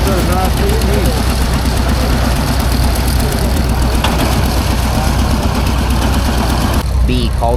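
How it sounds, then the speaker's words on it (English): An antique B Cultivision tractor idles steadily at an agricultural show, its low engine chugging continuously under background crowd chatter. "B Cultivision tractor, not to be confused with the John Deere B."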